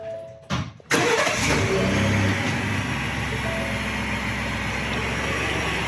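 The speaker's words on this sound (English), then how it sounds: "We're going to crank the vehicle and let it turn a little bit." A 2017 Ford F-150 XLT is cranked and fires up in a shop during brake rotor work: a short crank, a sharp catch, then a steady loud idle holding for several seconds.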